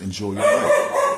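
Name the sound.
dog barking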